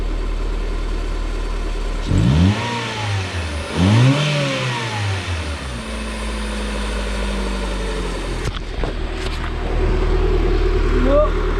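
A car engine revs up twice with rising and falling pitch, then settles into a low idle, after a hole in its oil pan was patched with RTV; voices talk nearby.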